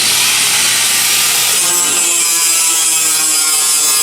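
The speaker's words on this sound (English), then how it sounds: "just gonna use my basic grinder here. And a lot of grinding" A basic angle grinder grinds down car body metal on a Ford Ranger chop top, a steady loud, bright whine that shifts in pitch partway through as the disc bites, with no talking.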